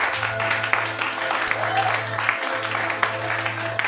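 A church congregation applauds together, a dense continuous wash of clapping with a few sharper claps standing out, over a sustained low organ-like tone and voices.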